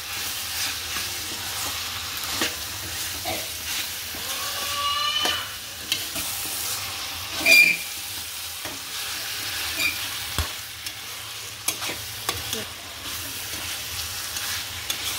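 Pieces of duck meat sizzle steadily as they are stir-fried in a pan, with a continuous crackling fry broken by scraping and stirring clatter from a utensil; no voices.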